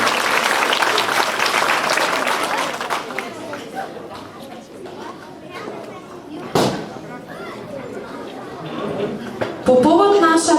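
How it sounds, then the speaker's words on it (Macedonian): An audience at a 2015 Christmas lunch claps loudly and densely for the first few seconds. The applause then thins out under murmuring chatter, with a few sharp knocks and voices near the end. "Молам за еден силен аплауз за овие наши искрени пријатели"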